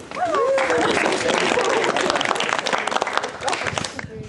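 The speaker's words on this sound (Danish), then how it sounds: "Så klapper vi." An eighth-grade class from Aarhus Free School claps together, a loud burst of applause close by that continues steadily and tapers off, with a voice briefly audible at the start.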